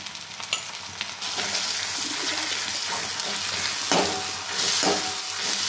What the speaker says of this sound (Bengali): লঙ্কাটা আমার ভাজা ভাজা হয়ে আসছে